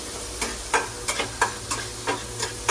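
Onions for egg fried rice stir-frying in a pan, a continuous close sizzle punctuated by about eight rhythmic scrapes of a spatula against the pan.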